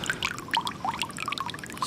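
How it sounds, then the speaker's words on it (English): Water pours and trickles from an automatic DIY pool level filler into the pool, a close, continuous splashing stream with bright bubbling droplets and no voices. "I'm going to put the black hose on here so you don't have to hear the water sound if you don't like it."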